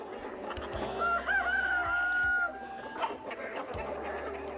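A Gramasree rooster, a poultry breed, crows one long drawn-out call close by, with hens clucking softly around it and low rural background sound.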